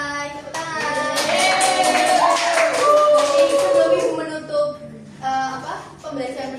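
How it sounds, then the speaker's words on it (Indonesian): Classroom students clap through a microteaching lesson, a dense patter of hands lasting a few seconds while voices talk over it, then fading as speech continues. "Tepuk tangan"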